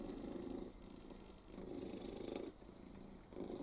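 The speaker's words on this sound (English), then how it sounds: "It really is the loudest purr" A cat purrs loudly and close up, a deep steady rumble pulsing in long rhythmic breaths.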